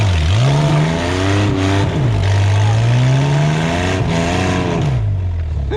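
A rock crawler with open headers revs hard on a rainforest trail in British Columbia, its engine rising and falling in repeated loud surges, close and continuous, with no talk over it.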